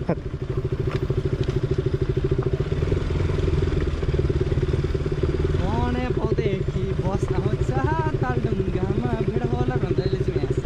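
A KTM Duke 200 motorcycle drones steadily while being ridden, with a constant engine hum close to the microphone. Voices speak over the engine partway through.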